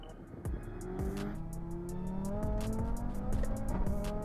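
A BMW F90 M5 pulls hard in a roll race, its engine note climbing steadily over about four seconds with sharp clicks and pops over the rising drone and no one talking.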